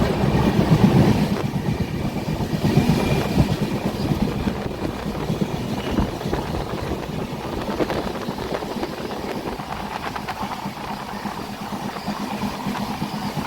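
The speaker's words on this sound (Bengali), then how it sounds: "আমরা বিবেক এক্সপ্রেস ধরে যাচ্ছি খড়গপুরের" The 22504 Vivek Express, heard from inside the moving train on its run toward Kharagpur, gives a steady loud rumble with rhythmic rattling and a droning engine tone that hold for the whole span, with no talking.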